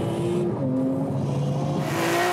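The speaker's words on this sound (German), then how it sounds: "Doch dann zündet Matthias den Turbo-Boost" A 900 hp tuned VW Golf accelerates hard under turbo boost in a drag race, its engine note climbing through gears as a loud, continuous roar with rising pitch steps.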